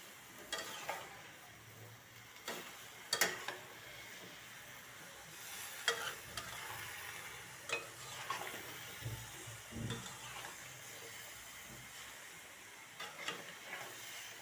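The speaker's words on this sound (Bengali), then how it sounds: "কষাই নেব তরকারিটা" Cauliflower curry being stir-fried in a pan, soft continuous sizzling broken by intermittent scraping and stirring clinks, fairly quiet and close.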